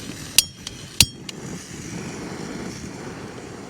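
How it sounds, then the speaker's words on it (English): A camping gas stove's piezoelectric lighter snaps twice in sharp, close clicks, followed by a steady soft hiss of burning gas that carries on to the end. "It's got a piezoelectric lighter"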